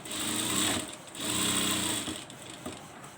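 Sewing machine stitching a lining onto blouse fabric, running in two or three steady bursts with brief pauses between, close and loud with no voices.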